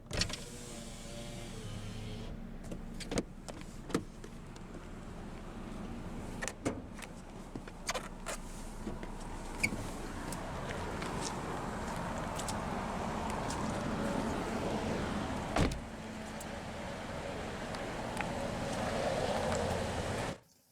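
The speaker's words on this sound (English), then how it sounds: "we'll go ahead and roll down the driver's window" The driver's power window of a 2016 Honda Civic LX Coupe hums as it rolls down, a soft steady motor whir inside the quiet cabin, punctuated by a few clicks and a thump, ending abruptly.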